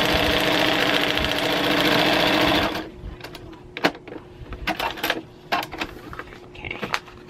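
A sewing machine runs fast and steady over quilt seams for a couple of seconds and then stops, leaving light handling clicks and rustles of fabric nearby.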